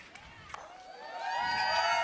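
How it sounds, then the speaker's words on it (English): Crowd at a pickleball match swelling from scattered noise into loud, sustained cheering and whistling, with a couple of sharp paddle or impact knocks early on. "the crowd is going bananas"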